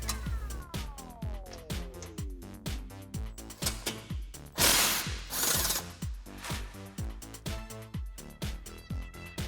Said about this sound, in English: now we're gonna take our skid plate off here. You're gonna have a 16mm bolt on one on each side